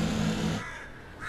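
A crow caws loudly a few times at the start, then fades into quieter background with a faint higher call near the end.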